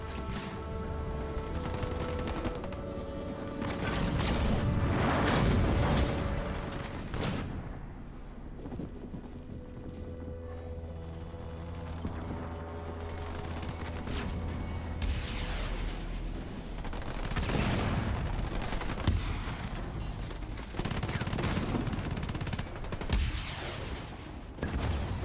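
Dense sniper fire rattles through a Halo Wars 2 2v2 pro league match, with repeated sharp shots and booming impacts layered over continuous battle noise.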